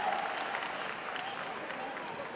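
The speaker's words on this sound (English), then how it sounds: "get huge rousing applause" An audience at the 7th World Kung Fu Championships breaks into rousing applause, a continuous, even patter of many hands heard from some distance at moderate volume.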